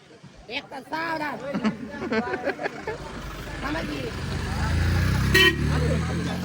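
A motor vehicle approaches on a rainy street in Pune near a crowded show. Its low engine rumble builds steadily over the second half, after voices chatter nearby, with a short horn-like toot near the end.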